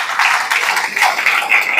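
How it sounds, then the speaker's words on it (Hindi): Steady applause from an audience at a business seminar, dense and sustained clapping throughout with no talk over it. "चलिए बहुत बढ़िया, दोनों के लिए बहुत जोरदार तालियां।"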